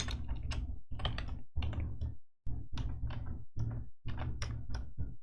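Code is typed on a computer keyboard in bursts of rapid, close keystrokes separated by short pauses, with no talking.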